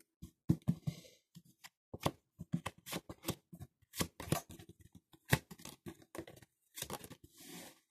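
Tarot cards are spread and shuffled across a table in a close series of crisp slides, taps and papery flicks, irregular and fairly loud with short pauses between strokes.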